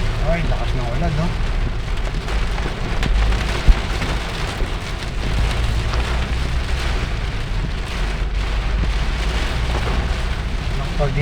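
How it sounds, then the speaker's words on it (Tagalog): Steady rain falls on surfaces in Manila as a dense, constant hiss, with a brief thud partway through and faint voices blended into the background. "ulan, no?"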